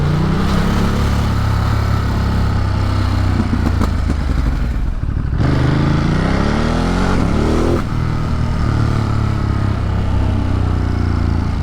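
A Ducati motorcycle rides through Brooklyn, its engine loud and close with a rough, throbbing exhaust under heavy wind rush, the revs climbing and dropping through gear changes.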